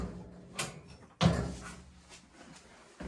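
The lower door of a 1958 Hotpoint Empress washing machine is opened close by, with a light rattle and then a sharp metallic knock or clunk, followed by a fading rumble in a quiet room.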